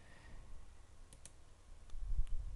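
A handful of faint, sparse computer mouse clicks sound during work in 3D software with Arnold shaders, set against a quiet room hum with no talking.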